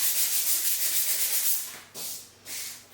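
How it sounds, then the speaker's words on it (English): Rhythmic rasping strokes of sandpaper along the edges of chalk-painted furniture, close and steady, then breaking into two short pauses before resuming, with no talking. "just do a little sanding around the edges"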